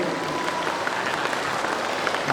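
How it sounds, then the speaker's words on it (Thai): Students at a school Sunthorn Phu Day and Thai Language Day opening ceremony applaud award recipients, a steady crowd of clapping hands that fills the room evenly from start to end with no talking over it. "ปรบมือให้คนที่รับรางวัลด้วย"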